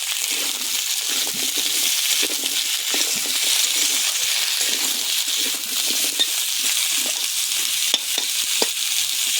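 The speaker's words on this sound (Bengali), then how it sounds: "জিরে আর শুকনো লঙ্কা আর পেঁয়াজ একসঙ্গে একটু ভেজে নেবো ওর মধ্যে আলু আর ডাঁটা দিয়ে একটু ভাজা ভাজা করে নেব" Potatoes and drumsticks fry in a pan with cumin, dry chilli and onion, giving a steady close sizzle broken by repeated scraping and clinking stirs.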